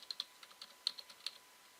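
Several light, close computer keyboard keystrokes tap out in an irregular burst as login details are entered on a library computer. The clicks are quiet and clear, and no one speaks over them.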